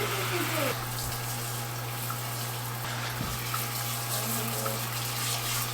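Steady stream of tap water running over apples being washed for applesauce in a farm kitchen, a continuous splashing rush with a low hum beneath and occasional light knocks of fruit.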